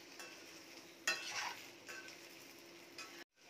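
Salt and turmeric being stirred into raw papaya and potato in a pan, giving a faint soft scrape and a quiet low sizzle with one brief louder clatter of the spoon, no voices.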